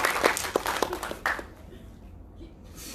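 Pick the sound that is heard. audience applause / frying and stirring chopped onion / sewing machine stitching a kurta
audience applause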